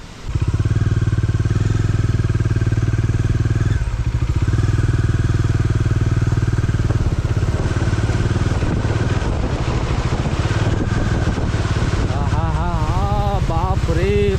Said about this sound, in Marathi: चला आता बाईक असं थोडंसं वरती घेऊन जाऊया